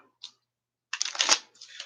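Tarot cards shuffled by hand in a quiet room: a faint tap, then a brief, dense riffle of papery flutters lasting under a second, followed by a softer trailing shuffle.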